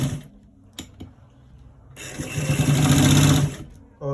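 A sewing machine stitches the collar of a roll-neck garment. A few light mechanical clicks come first, then a steady close whir builds and runs for over a second before stopping.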